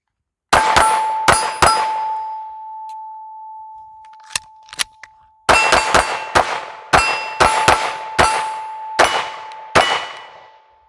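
A pistol reload using a Shield Arms 15-round magazine: sharp, close metallic clacks and snaps come in quick clusters, then a short pause with a few light ticks, then another run of loud clacks.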